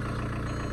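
A 2001 Volkswagen TDI diesel with automatic transmission idles, a steady low rumbling drone with even pulsing, close and continuous through the brief moment.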